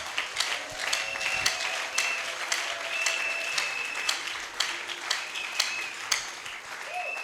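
A church congregation applauds after a scripture reading at a French-language service, with dense sustained clapping from many hands filling the room and a few voices calling out beneath it.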